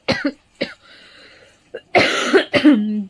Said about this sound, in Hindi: खांस खांस के मेरे पेट में दर्द होने लगा है।